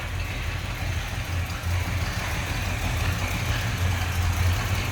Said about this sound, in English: Nice low idle to it. Sounds good.